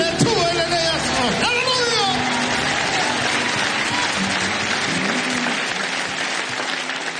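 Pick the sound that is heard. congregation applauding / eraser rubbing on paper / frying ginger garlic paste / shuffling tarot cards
congregation applauding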